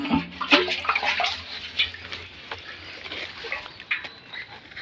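Water splashes and sloshes in irregular bursts, fairly close, with scattered sharp drips and knocks and no talking.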